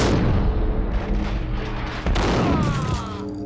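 Heavy gunfire in the video game Max Payne: a dense, loud barrage of booming shots fills the whole stretch, with ringing tonal game effects rising near the end and no voices.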